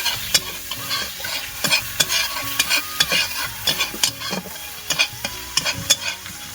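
Spices with turmeric frying in oil, a steady sizzle under repeated scraping and clinking of a spoon stirring the pan, loud and close.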